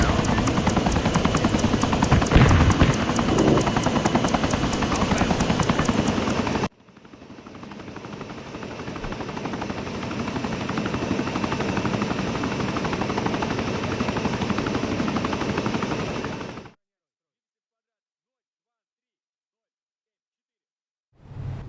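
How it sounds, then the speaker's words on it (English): Helicopter in the ArmA 3 Cold War Crisis game, a loud rotor and engine roar for several seconds that drops to a quieter steady drone, then cuts to silence near the end. "Now let's get that chopper in the air"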